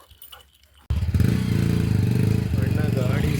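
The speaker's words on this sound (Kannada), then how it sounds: "ಅಣ್ಣ ಗಾಡಿ ಸರ್ವಿಸ್ ಮಾಡಿ ಶೆಡ್ಡಿಗೆ ತಗೋತಾರೆ" A serviced motorbike starts up abruptly after a moment of quiet and runs with a steady, close, rumbling idle, rough low engine chug continuing to the end, with faint clinks and brief voices before it starts.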